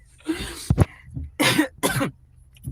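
A person coughs several times in close, harsh bursts separated by short pauses.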